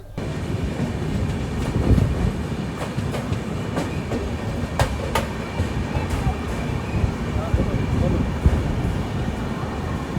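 An Indian train rolls into Jharsuguda Junction railway station, giving a steady loud rumble with clanking and clickety-clack of the carriages throughout and a couple of sharp metallic clicks near the middle.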